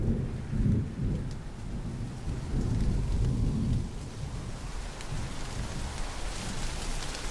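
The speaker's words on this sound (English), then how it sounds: "What's with all the rain?" Steady heavy rain pours throughout, with deep rolling thunder rumbling underneath in long swells; no voices.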